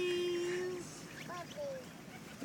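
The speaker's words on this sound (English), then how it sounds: "look at all these birdies" Ducks quack and call nearby while being fed bread outdoors. A few short honking calls and squeaky notes are scattered over a soft background murmur.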